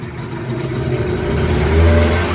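A Hidea 15 PRO two-stroke outboard motor revs up steadily, its loud, rough engine drone rising and holding close by, with no talking.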